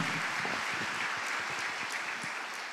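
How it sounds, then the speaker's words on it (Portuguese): A congregation claps in a church gathering, giving a dense, even round of applause that holds steady throughout and slowly eases off toward the end. "Você pode dar uma salva de palmas para o Senhor?"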